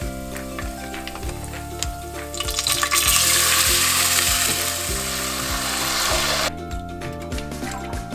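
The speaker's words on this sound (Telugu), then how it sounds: "లైట్గా ఆయిల్లో చిట్పట్లాడేటప్పుడు" Whole spices spluttering and sizzling in hot oil in a pan for Hyderabadi biryani, a steady close crackle that swells loudly in the middle and then cuts off.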